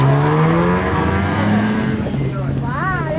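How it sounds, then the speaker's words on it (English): A snowmobile engine drones loud and close through a blizzard, a steady motor tone that shifts pitch slightly as it runs, with voices talking over it. "Pretty sure the snowmobile's going on picking up people who are stranded because the lifts aren't working."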